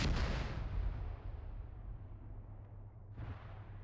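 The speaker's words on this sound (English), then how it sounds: "Not sure what that explosion was" A big explosion in a multiplayer video game battle, a loud booming blast that decays into a long rumbling tail, followed by a second, smaller burst near the end.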